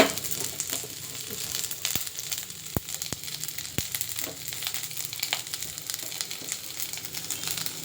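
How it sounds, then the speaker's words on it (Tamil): Onion and green chillies fry in a pan with a steady, close sizzle, broken by scattered sharp crackles and pops. "வெங்காயம், பச்சை மிளகாய் போட்டுடுவோம்."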